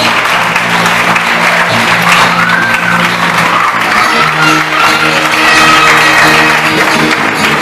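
A church congregation applauds at a worship service, a dense, steady wash of clapping from many hands that continues for the whole stretch at close, loud level, with no voices standing out.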